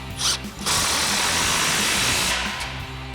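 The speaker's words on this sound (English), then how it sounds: "Now we'll come in and tighten down our slip joint clamps with our 16mm socket on our impact" An impact wrench with a 16mm socket runs in one sustained burst, tightening slip joint exhaust clamps on a Silverado 2500, after a short whir at the start; loud and close.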